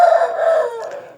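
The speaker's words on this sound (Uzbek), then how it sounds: "Xorozlar yapon." A Japanese-breed rooster crows once, loud and close, a single drawn-out cock-a-doodle-doo that tapers off at the end with no other sound around it.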